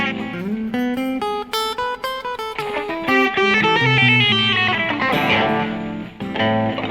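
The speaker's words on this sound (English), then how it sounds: "you can, if you want, play the harmonic minor" Electric guitar with effects running up and down a harmonic minor scale in neoclassical style, single notes in quick succession, loud and steady with no voices.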